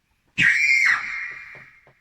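One loud scream that cuts in sharply, holds a high shrill tone, then slides down and trails off over about a second and a half, heard alone with nothing else around it.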